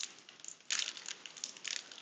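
A Lord of the Rings trading card booster pack wrapper is torn open by hand, giving close, crinkly plastic crackles in irregular bursts that grow busier toward the end.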